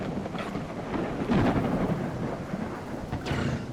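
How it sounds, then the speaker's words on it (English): Rain falls steadily with rolling rumbles of thunder in a dinosaur video game, a thick hiss of rain under low booming swells, with no voices. "the rain came in just in time for a thematic end as we fell 2 giants"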